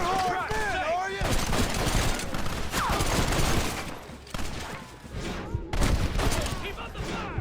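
Rapid bursts of gunfire from a Red Dead Redemption shootout, loud and dense with overlapping shots, while voices shout over the shooting throughout.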